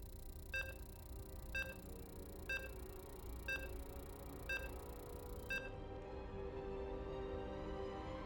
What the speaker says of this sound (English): You can hear the beeps.